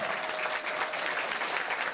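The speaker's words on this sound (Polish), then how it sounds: "Wielkie brawa!" Dense, steady applause fills a hall at the opening ceremony of the 2019 youth summer games at Drzonków, a close, even crowd clapping throughout without voices.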